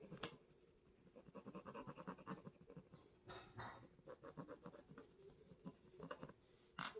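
A purple colored pencil scratches steadily across paper while filling in part of a color-by-number picture, a close, quiet, continuous rasp in short strokes with brief pauses.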